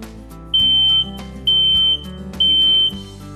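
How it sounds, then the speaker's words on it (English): Three loud, piercing high-pitched beeps from a smoke alarm during a battery test, each about half a second long, evenly spaced, over faint background music. "I'm going to use this broom handle to test the smoke detector's batteries."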